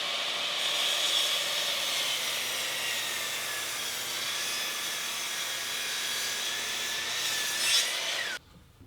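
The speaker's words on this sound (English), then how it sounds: "the first thing I'm going to do is cut it to rough length" A hand saw cuts a thick 12-quarter cherry board to rough length, giving a continuous, close, loud rasping stroke that holds steady for about eight seconds before stopping abruptly.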